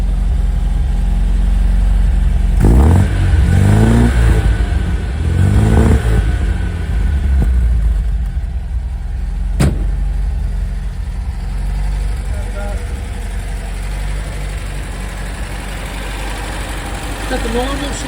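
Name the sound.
1968 MGB Roadster engine starting and running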